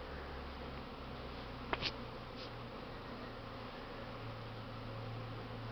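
Honeybees hum steadily around hives in early spring while bringing in hazel pollen, a constant close buzz with one short sharp knock partway through.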